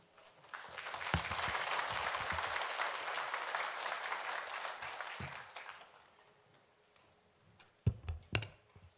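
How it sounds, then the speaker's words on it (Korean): A church congregation at an Easter-season early morning prayer service at Yeouido Baptist Church bursts into warm applause welcoming the preacher, a dense clatter that rises quickly, holds for several seconds and fades out, followed by a few scattered sharp knocks. "나오실 때 우리 큰 박수로서 환영하겠습니다"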